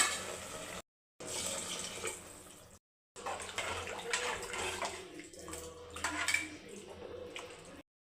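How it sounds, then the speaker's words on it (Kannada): Water pours into a pot of rice and capsicum being readied in a pressure cooker, a steady rushing splash with two brief breaks, close and fairly loud, with no talking. "ಇವಾಗ ನೀರು ಹಾಕ್ಕೊಳ್ಳೋಣ"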